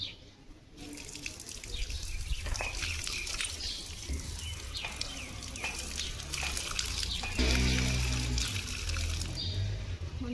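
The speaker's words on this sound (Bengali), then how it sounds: "এখন পাওটা ধুয়ে নিই।" Tap water runs and splashes steadily at a Kali temple as bare feet are washed, the flow getting heavier and louder near the end.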